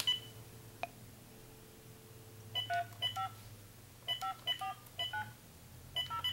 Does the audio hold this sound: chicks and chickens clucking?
no